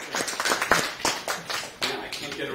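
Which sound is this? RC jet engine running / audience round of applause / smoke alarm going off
audience round of applause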